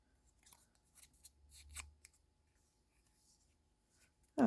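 Scissors cut scraps of patterned card stock with a series of quiet, crisp snips and light paper rustles. A sharp, loud knock lands at the very end.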